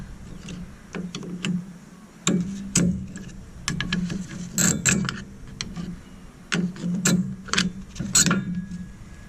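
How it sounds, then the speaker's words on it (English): Rusty, stuck brake pads being pried out of a Ford F-150 caliper: irregular sharp metallic clicks, knocks and scrapes arrive in clustered bursts over a low steady hum, close and fairly loud, with no talking. "Pry the pads out. Sometimes they're rusty and stuck pretty good."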